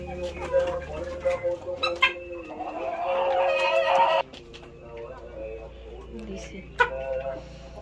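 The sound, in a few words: Tiger breed chickens clucking on a farm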